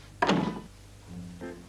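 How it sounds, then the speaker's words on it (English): A door swings shut with one solid, close thunk, followed by a fainter rattle and a brief tonal creak as it settles. "Shall I shut the door?"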